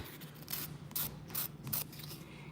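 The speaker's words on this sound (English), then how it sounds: "you just have to basically cut the tip off, square it up" Fingernail tips being clipped off with a few crisp snips, four close cutting sounds spaced roughly evenly over a faint hum, with no talking.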